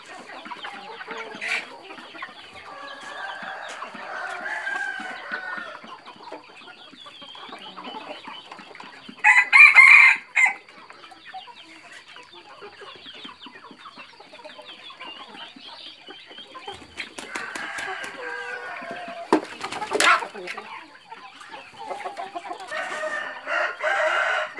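Fighting cocks and jungle fowl on a breeding farm crow in several loud bursts spread across a quiet yard, with scattered clucking between them and no voices.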